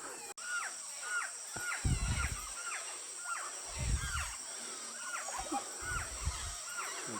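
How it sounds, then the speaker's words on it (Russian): Jungle birds in the Ecuadorian Amazon give repeated harsh, crow-like caws and calls over a steady high insect drone at evening, with bursts of low rustling as birds settle on branches. "Немножко звуков джунглей."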